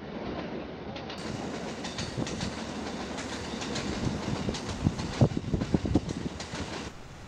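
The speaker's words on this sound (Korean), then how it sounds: "전철이 교차하는 쯔루하시역." Trains of the JR and Kintetsu lines rumble and clatter past at Tsuruhashi Station in Osaka, a steady rail noise with rhythmic wheel clicks that build toward the end.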